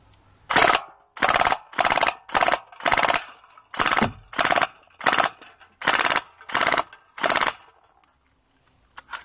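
An M4A1 airsoft rifle fires a series of about eleven short bursts and single shots, each a sharp, close mechanical rattle separated by brief pauses, followed by quiet at the end.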